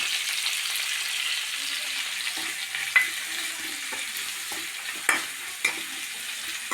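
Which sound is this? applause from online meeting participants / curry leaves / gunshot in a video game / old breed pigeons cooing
curry leaves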